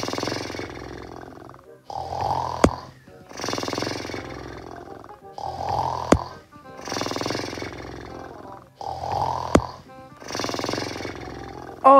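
A person snoring at night while someone tries to sleep, with loud, regular rasping breaths repeating roughly every three to four seconds, close by and alone without talk.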